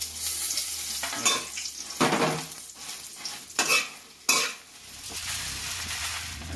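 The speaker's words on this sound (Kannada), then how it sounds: "ಫಸ್ಟಿಗೆ ಮೆಣಸು ಫ್ರೈ ಮಾಡೋದು." Pepper and whole spices fry in Nandini ghee for a dry chicken sukka, a close sizzle broken by several sharp scraping stirs of a spoon against the pan.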